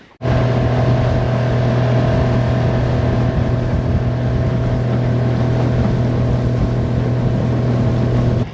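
A motorboat engine drones steadily and loudly at a constant pitch on a river in the remote northern Kimberley, close by, with no letup and no talking.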